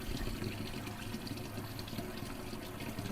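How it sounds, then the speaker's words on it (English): Water runs steadily from a kitchen tap as black rice is rinsed, making a continuous, close rushing splash with no talking. "And all I'm going to do is wash it and rinse it."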